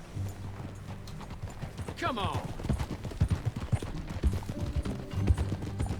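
Horse hooves clip-clop in a steady trotting rhythm in the video game Red Dead Redemption 2 while voices speak over them.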